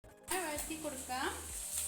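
Chopped ginger and garlic sautéed in hot oil for restaurant-style chilli chicken, a steady close sizzle that starts abruptly and runs under a speaking voice, with brief stirring swells.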